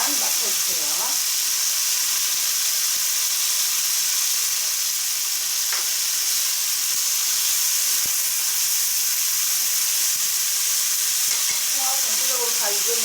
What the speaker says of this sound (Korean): 볶아주시면서 소금으로 간 맞춰주세요.